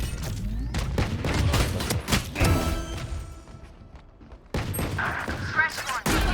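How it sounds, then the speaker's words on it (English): A rapid series of missile launches and explosions rings out in a competitive shooter game, with sharp repeated bangs and booms, a brief quieter lull in the middle, then more blasts near the end. "All missiles away."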